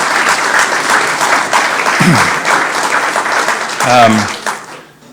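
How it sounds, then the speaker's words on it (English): An audience at a groundbreaking ceremony applauds former House Speaker Greg Stumbo, a full burst of clapping that runs throughout while a speaker's voice cuts in briefly over it. "Let's give Greg a big round of applause"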